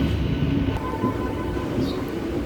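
A Panskura local train rumbles steadily on the Howrah–Santragachi section, a continuous low rolling drone heard from on board with no distinct events.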